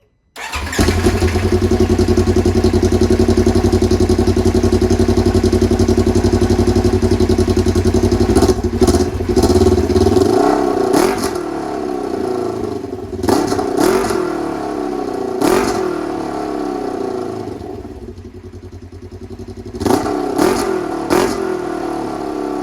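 A loud Polaris RZR 1000 XP side-by-side UTV engine with an aftermarket exhaust idles with a deep rumble, then revs repeatedly in sharp bursts with a raspy, throaty exhaust note, dropping back between throttle blips.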